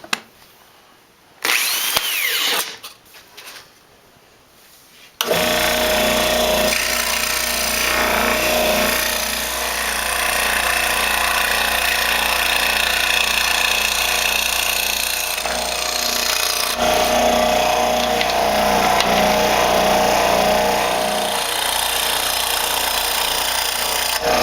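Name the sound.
drilling a hole in a wooden frame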